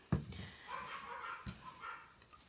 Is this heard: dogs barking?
yes